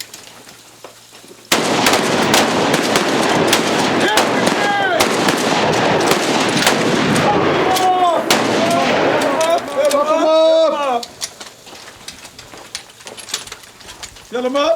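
Hunters fire on command at targets, loud close shots cracking in a dense burst amid a noisy crowd of voices and whistling tones, then thinning to sparse reports.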